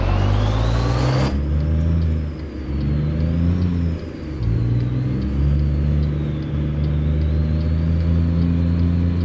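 A simulated truck engine in American Truck Simulator revs and drones with a short trailer attached, a steady heavy rumble with rising and falling pitch and a faint high whine over it.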